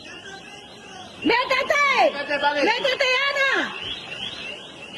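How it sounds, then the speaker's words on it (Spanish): A warbling alarm sounding during a live news broadcast, with rising and falling electronic tones repeating for a few seconds while people shout urgently over it. "Ay, Dios mío, está sonando la alarma ahí."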